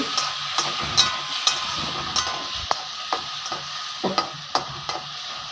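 Chopped tomato with sugar being stirred in a wok, a spatula scraping the metal in a steady series of sharp strokes about every half second over a continuous sizzle, close by.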